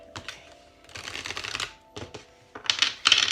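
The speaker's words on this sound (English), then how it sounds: "I'm just going to do a little quick shuffle." An oracle card deck is shuffled quickly by hand, producing bursts of crisp riffling and flicking card sounds in several short runs, close and fairly quiet, with no talk.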